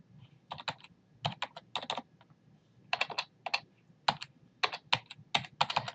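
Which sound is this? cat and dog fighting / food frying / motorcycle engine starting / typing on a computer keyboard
typing on a computer keyboard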